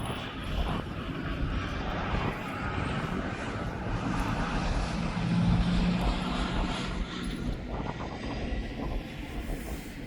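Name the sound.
Jet2 jet aircraft flying over airfield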